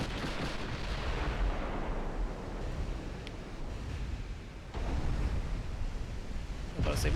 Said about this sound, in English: there's the first return shot